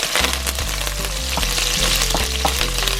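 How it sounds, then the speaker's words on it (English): Herbs frying in hot oil in a pan for brown stew chicken, a close, steady sizzle with soft, rhythmic stirring scrapes running throughout. "Give this a light stir. Trying to get all that flavor into the oil"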